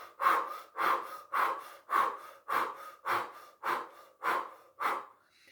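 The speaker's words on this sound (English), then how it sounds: "Breath of Fire, Dragon Breath, which is breathing quickly through an O-shaped mouth" Nine rapid, forceful Breath of Fire yoga breaths pushed through an O-shaped mouth, each a sharp rushing exhale in an even rhythm about every half second, close and loud with no talk.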